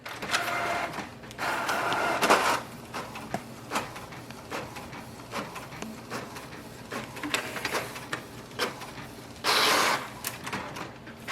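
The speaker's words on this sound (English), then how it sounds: "Next step is to print the nozzle check sheet." A Canon Pixma G5020 inkjet printer runs a nozzle check print, with whirring carriage passes, clicks and ratcheting paper-feed bursts at close range, alone without talk.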